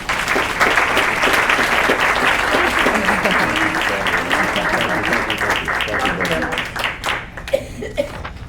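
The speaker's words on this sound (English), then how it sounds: "Give Tony a round of applause." An audience at a community YMCA education celebration gives a warm round of applause for an honoree, sustained clapping mixed with some laughter and chatter that gradually thins toward the end.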